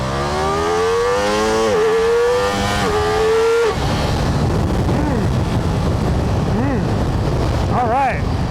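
Ducati Multistrada V4 RS motorcycle pulling hard in first gear at full power, loud engine note climbing steadily in pitch, then dropping as it shifts into a rougher, lower drone with brief rising revs near the end.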